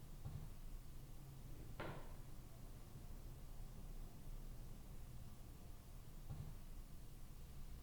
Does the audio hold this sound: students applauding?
no